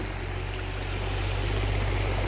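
A river in Wang Chao National Park, Thailand, gives off a steady, broad rush of flowing water, continuous and fairly close, with no voices over it.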